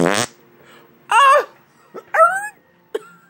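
A stand-up comedian imitates a fart with his mouth, a loud buzzing blast followed by a few shorter sputtering bursts with pauses between them.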